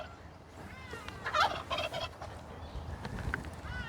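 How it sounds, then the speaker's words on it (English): Turkeys on a farm at Vredenheim near Stellenbosch give a burst of close, warbling gobbles, followed by a shorter, quieter gobble against faint outdoor background noise. "Turkeys."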